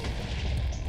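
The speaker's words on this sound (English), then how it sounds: "Cannon one ready to fire." Cannon fire in the Minecraft video game, a dense, continuous booming rumble that stays loud and heavy throughout with no clear pauses.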